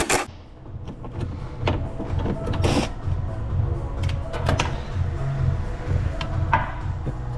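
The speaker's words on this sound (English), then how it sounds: "You put this on top of the rivet. And it simply cuts through and pushes it out." A tool cuts through and pushes out a rivet on a Porsche Taycan, giving a low grinding hum with repeated clicks and knocks of metal handling, close up and without talk.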